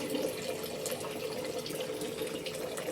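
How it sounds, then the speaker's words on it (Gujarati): Milk is poured into water in a basin for a baby's first-feeding ceremony bath, giving a steady close liquid splashing and trickling with no talk. "એની મમ્મી છે ને દૂધ નાખે છે પાણીમાં"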